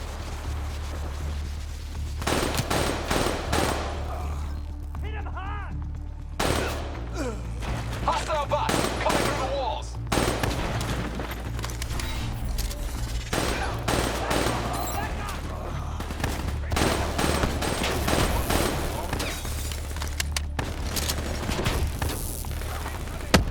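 Call of Duty Black Ops 3 firefight on the New World mission, with dense bursts of automatic gunfire and single shots cracking nearby throughout, mixed with mechanical clatter, game music and shouted voices.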